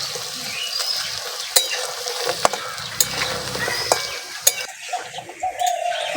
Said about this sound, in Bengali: এবার ফুলকপিগুলো উল্টিয়ে দিচ্ছি। একটু নাড়া দিলেই একে একে ভাগ হয়ে যাবে।